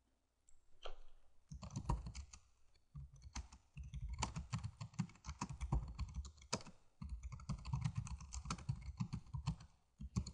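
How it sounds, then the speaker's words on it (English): Quick bursts of typing on a computer keyboard while writing a blog post, dense close key clicks in uneven runs separated by short pauses, with no voices. "Okay, I just typed a quick post."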